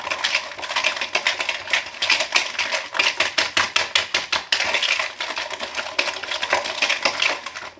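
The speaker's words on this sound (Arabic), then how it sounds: "غنخلط مزيان" Orange cake batter being whisked or stirred in a bowl with eggs, salt and sugar, a fast repetitive clatter of utensil against bowl, steady and close.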